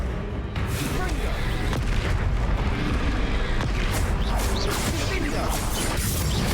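Spell explosions from the Confringo fire spell in the Hogwarts Legacy video game burst loudly over dense, continuous combat noise, a sustained roaring wash with repeated blasts and little pause.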